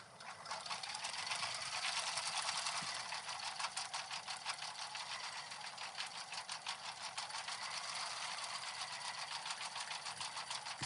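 Sewing machine running at increased speed, a steady rapid mechanical stitching chatter with fine regular rhythm, close and alone without voices.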